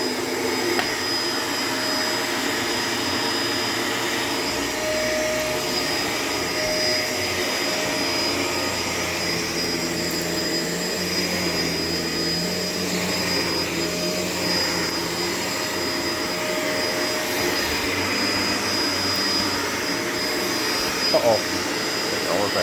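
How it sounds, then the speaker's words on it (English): A Shark LA702 Lift-Away upright vacuum cleaner runs with a steady, even whine and airflow drone that holds throughout, with a small knock near the end. "another reason I'm happy to have this vacuum is because should I ever need to clean up above the floor, this base detaches"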